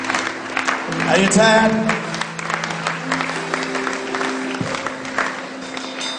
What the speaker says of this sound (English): You should clap until he sits down, at least.